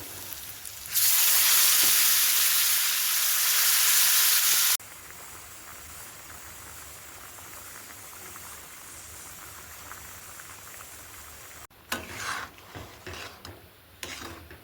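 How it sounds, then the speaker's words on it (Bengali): Pressure-cooker-boiled dal poured into fried spices with salt and turmeric in a pan, a loud hissing sizzle bursting for a few seconds, then a quiet simmer followed by scattered clattering handling noises. "মশলাগুলো ভাজা হয়ে গেছে, এর মধ্যে দিয়ে দেবো আগে থেকে প্রেশার কুকারে সেদ্ধ করে রাখা ডাল"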